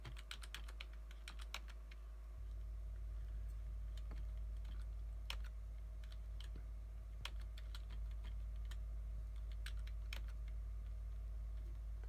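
Keystrokes on a standard computer keyboard used to control a Fostex CR500 CD burner, irregular light clicks in quick bursts and single taps, close but quiet over a steady low electrical hum, with no talking.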